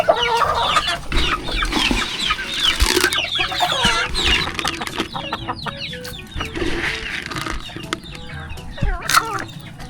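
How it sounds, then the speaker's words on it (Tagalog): Chickens at a fishpond farm cluck and squawk continuously and loudly nearby, with overlapping calls throughout and no clear talk. "Ako pinagpapakain ng mga manok."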